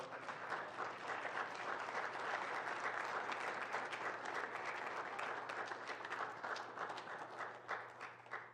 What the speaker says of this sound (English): Let's go ahead and start clapping